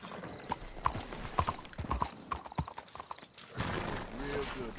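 Horse hooves clip-clop and a horse whinnies in a video game, with voices talking over the steady hoofbeats and the neigh rising near the end.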